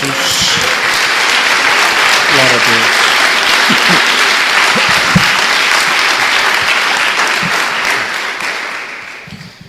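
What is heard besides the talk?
church congregation applause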